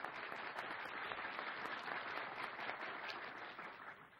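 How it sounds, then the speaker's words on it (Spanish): Steady studio audience applause on a Spanish television game show, a dense wash of clapping that holds evenly for the whole stretch with no talking over it. "y este aplauso para don Carlos"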